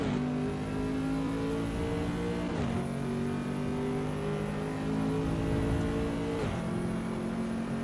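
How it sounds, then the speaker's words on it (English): Race car engine in the Assetto Corsa EVO video game, a steady droning whine with a high turbo whistle riding above it, pitch dipping at gear changes twice, loud and continuous. "Turbo singing."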